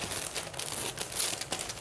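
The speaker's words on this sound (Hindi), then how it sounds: "ये हमने स्टिकर उतारा" A sticker being peeled off gift packaging: close, uneven crinkling and crackling of paper and plastic over a couple of seconds, with no talking.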